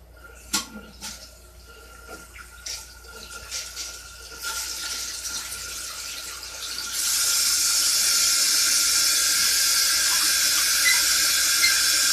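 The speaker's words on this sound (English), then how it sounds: "Alright, we're almost done filling the water." Water runs into a toilet tank as it refills after the supply line is reconnected, starting with scattered drips and trickles, then building into a steady, loud, close rush that continues without pause.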